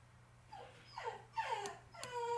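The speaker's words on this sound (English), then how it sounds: "Can you hear with Leon whining?" A search and rescue dog whines close by in four or five rising, plaintive whimpers, each one louder than the last, with no talk over them.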